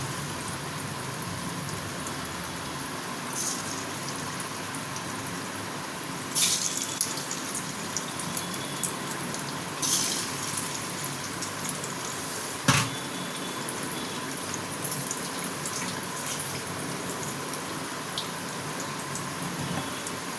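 Chicken shallow-frying in a pan over a low gas flame, giving a steady, soft crackling sizzle like light rain that runs evenly throughout, with a few brief louder pops and clinks and no talking.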